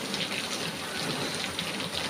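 Steady, dense rain pours down with an even, unbroken hiss and no voices.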